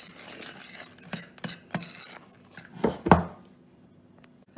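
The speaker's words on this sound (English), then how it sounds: "And then I'll add my chocolate chips and stir it around." A utensil stirring chocolate chips through dry muffin mix in a bowl gives soft scraping sweeps and a few sharper clinks against the bowl, close and moderately loud.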